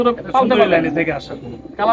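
Racing pigeons of a racing line coo softly near at hand, their throaty calls partly overlapped by someone speaking nearby.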